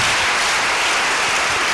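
A church congregation applauds during a Sunday worship service, a dense, steady roar of many hands clapping together, loud and continuous from start to finish with no talk above it.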